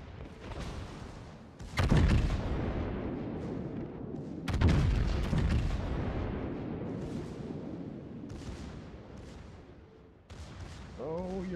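Heavy naval guns of the Yamato battleship boom in a World of Warships battle, several big blasts with long rumbling tails, the loudest salvos around two and four and a half seconds, followed by sustained low roar.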